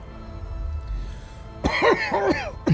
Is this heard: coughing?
yes